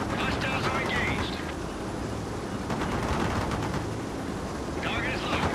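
Apache helicopter gunship gunfire in the game World in Conflict, a dense continuous rattle of shots under heavy battle noise, with faint radio-style voices breaking through now and then.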